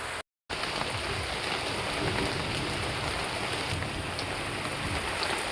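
Steady rain falls outdoors in a backyard, a dense, even hiss of drops on surfaces that continues without a break and stays alone with no voices.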